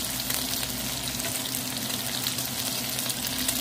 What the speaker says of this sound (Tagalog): Halu-haluin lang po habang natutuyo na ang sabaw.